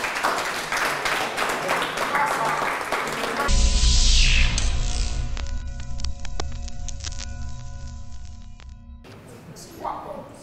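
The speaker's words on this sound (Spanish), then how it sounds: "Señores, con todos ustedes, un fuerte aplauso para Pablo Maza." A television studio audience applauds a comedian in Equatorial Guinea, a steady wash of clapping that gives way to a sustained musical fanfare, with clapping returning briefly at the end.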